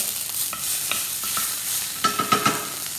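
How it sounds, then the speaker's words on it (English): Butter sizzles steadily in a hot pan, with a few louder crackling pops near the end and no talking. "be careful, it does sizzle, so you don't want to splash yourself."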